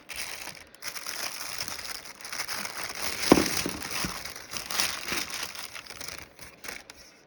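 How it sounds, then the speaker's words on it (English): Plastic packaging crinkles and tears as a DIMO car crypto miner is unwrapped, a continuous close crackling and rustling that peaks in a sharp crunch midway. "So, and this guy, I'm gonna assume is the actual miner. So we'll unwrap this here."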